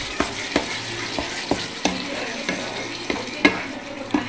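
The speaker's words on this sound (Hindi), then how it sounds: "ऐसा भूजना है इसको" Meat frying with meat masala in a pan, a steady close sizzle broken by regular sharp scraping knocks of a spoon stirring, with no one talking.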